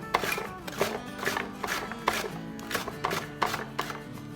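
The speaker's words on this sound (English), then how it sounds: "there's my peppers all chopped up" Green peppers chopped with a slicer in a home kitchen, a quick run of crisp, rhythmic cutting strokes against a board, close and moderately quiet, with no talking.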